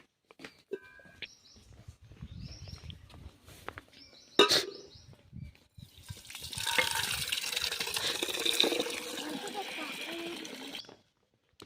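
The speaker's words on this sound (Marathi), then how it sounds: "पहिल्यांदा पक्ष्यांना पाणी ओतून ठेवूया" Water poured into a container for birds in a Konkan village farm setting; a steady, fairly loud pour runs through the middle and end, after a stretch of people talking with clattering sounds.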